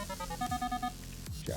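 Iron tone from a Minelab Equinox 900 metal detector: a string of short low-pitched buzzy beeps in quick succession, faint and close, then trailing off into quiet hiss.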